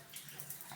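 Water runs in a shower in pitch darkness after a power outage, a faint, steady hiss and patter with no voices over it.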